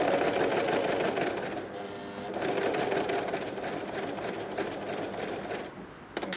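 A sewing machine stitches a T-shirt in a continuous fast mechanical whir and chatter, slowing briefly about a third of the way through before running on steadily.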